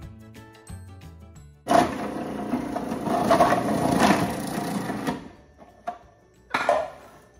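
Food processor blade grinding dried turmeric into powder, a loud rough whirring roar that runs several seconds, stops, then gives a short final burst, with no talk.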